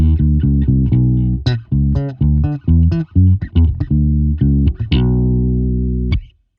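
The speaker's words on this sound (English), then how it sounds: "classical finger style palm mute technique on my bass" Bass guitar octaves played with a fingerstyle palm-mute thumb technique, short punchy plucked notes in a quick rhythmic run ending on a longer sustained note, deep and close with no talking.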